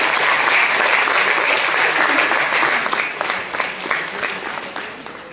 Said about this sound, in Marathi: नाशिककरांसाठी जोरदार टाळ्या वाजवूया